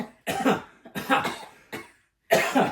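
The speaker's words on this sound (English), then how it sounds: "Cough. Cough. Cough." Close, loud coughing comes in four separate bouts, most of them double or triple hacks, with short silent gaps between them and no talking.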